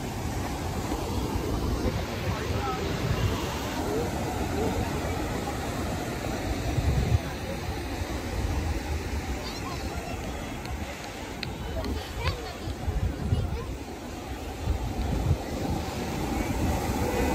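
Ocean surf on Puri beach rolls in a continuous broadband wash, mixed with gusty wind rumbling on the microphone and faint background voices.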